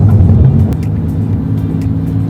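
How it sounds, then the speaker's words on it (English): Tire and road noise inside a 2022 Maserati MC20 at low speed: a steady, low rumbling drone that stays fairly even throughout, heavier at the very start, with no voices. "You are low enough in this car where you do pick up some road noise."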